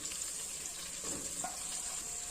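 Onions, curry leaves and mushrooms fry in a pan for a mushroom curry, making a steady close hissing sizzle with a faint stirring scrape partway through and no talking.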